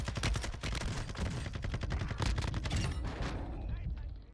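Sakin MG38 light machine gun firing in the video game Warzone 2, a loud, sustained rapid burst of automatic fire that cuts off near the end.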